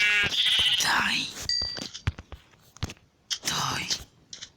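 Bleating from a black sheep in the Minecraft video game, a few short bleats at the start and again later, mixed with soft talk and game noises.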